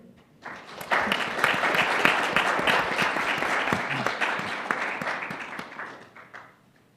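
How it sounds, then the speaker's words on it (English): An audience gives a sustained round of applause, dense clapping swelling after a quiet start, holding steady for several seconds, then thinning and fading out near the end. "a big round of applause for you"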